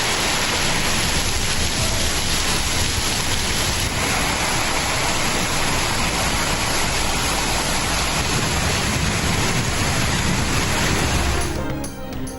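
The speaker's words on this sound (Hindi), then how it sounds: "मुल्क के मुख्तलिफ हिस्सों में कहीं हल्की कहीं तेज बारिश।" Steady rain pouring down, a dense, loud, continuous hiss of drops falling on surfaces with no pauses, ending with a brief dip at the close.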